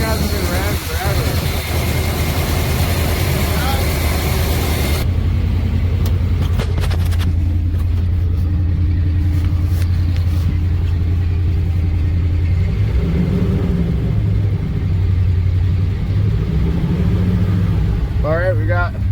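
A 1986 Dodge Ramcharger engine, unrun for 18 years and missing an exhaust bolt, idles loudly and continuously with a deep, rough rumble and steady hum. A voice speaks over it near the end.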